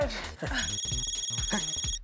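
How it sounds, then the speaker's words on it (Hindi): A telephone ringing with a steady electronic warble, heard under people talking over it. "सुबह सुबह किसका फोन आया होगा?"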